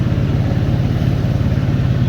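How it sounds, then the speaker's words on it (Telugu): Ride in an auto rickshaw through city traffic toward a mall, with a loud, steady small-engine drone that pulses rapidly and continuously throughout, close up and with no talking. "ఇక ఫోరం మాల్ చూద్దామని ఇక ఆటోలో వెళ్తున్నాం"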